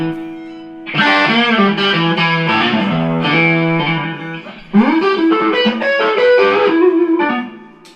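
Electric guitar made in Barcelona played through a Mesa Boogie amp, a rich sustained melodic line with chorused, slightly driven tone, loud and close, phrases ringing out with a short break midway, no speech.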